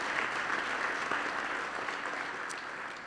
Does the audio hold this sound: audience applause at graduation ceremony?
yes